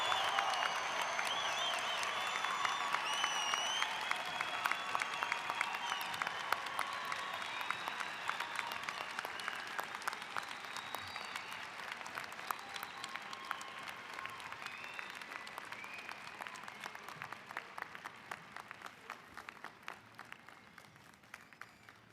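Sustained applause from a convocation crowd honouring graduating classes at a college humanities ceremony, dense steady clapping that holds for over twenty seconds and tapers slightly toward the end, with a few cheers mixed in.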